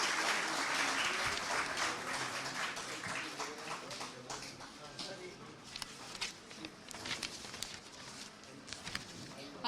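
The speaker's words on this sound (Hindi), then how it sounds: "उन सभी के लिए जोरदार तालियां हो जाएं" Applause rolls through the crowd at the Education Excellence Awards 2024 ceremony, moderately distant and thinning out, with scattered individual claps toward the end.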